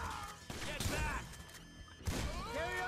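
Gunfire rattles in a GTA V firefight, a burst of several rapid shots followed by a second volley, loud and close, mixed with crashing impacts and someone talking over it.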